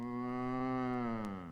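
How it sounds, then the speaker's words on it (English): A single cow lowing in a cow barn, one long steady sustained moo at low level with no other sounds around it. "So Georgie ran away to a cow barn, where there lived a harmless cow."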